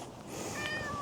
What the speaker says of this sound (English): what a soft kitty cat